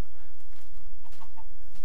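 Video game chickens cluck in short, faint bursts over a constant low background hum, with a few brief higher clucks near the end and no talking.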